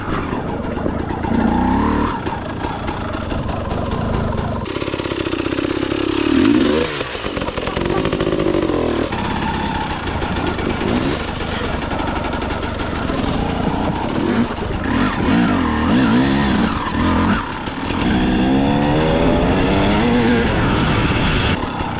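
An enduro motorcycle rides off-road, its engine loud and close, revving and droning continuously with rising and falling pitch as the throttle changes throughout.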